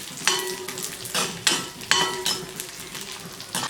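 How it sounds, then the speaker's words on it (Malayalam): Raisins frying in ghee in a pan for cherupayar parippu payasam, a steady close sizzle broken by several bright scraping strokes of a spoon stirring them around. "ഇനി നമുക്ക് എടുത്തു വെച്ചിരിക്കുന്ന കിസ്മിസ് ഇട്ട് ഫ്രൈ ചെയ്തെടുക്കാം."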